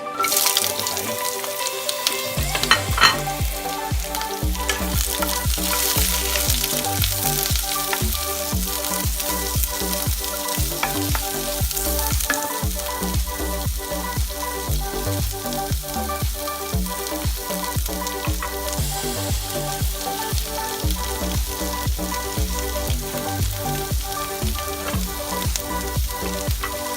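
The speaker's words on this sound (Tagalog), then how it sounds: "nagpainit na ako ng pan with oil. So, una natin gagawin is ilagay natin yung ating sibuyas" Onions sizzle and spit loudly in hot oil in a pan, a continuous close frying hiss with occasional stirring clatter, lasting the whole stretch with no talk.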